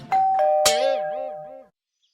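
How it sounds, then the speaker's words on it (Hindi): A cartoon doorbell rings alone in a Chacha Chaudhary Holi comic scene: a sharp struck chime, then a sustained tone with a wobbling, warbling pitch that fades out after about a second and a half. "दरवाजे की घंटी"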